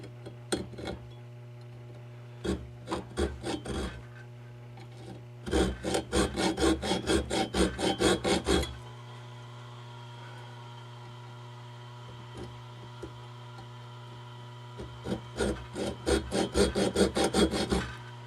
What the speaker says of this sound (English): the trick is going to be to hacksaw and file out all the metal between those lines